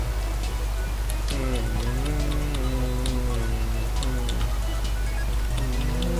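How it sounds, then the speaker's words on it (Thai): Steady rain pours in the Minecraft survival video game (version 1.8.9), a constant soft hiss with faint scattered ticks of drops, while someone talks over it throughout. "ตอนนี้ฝนตกนะฮะ"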